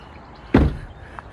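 A car door opened from the outside gives a single sharp clunk of the latch and handle, loud and close, followed by a faint small click a moment later against quiet background.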